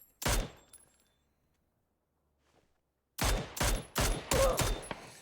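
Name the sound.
gunshots in PUBG video game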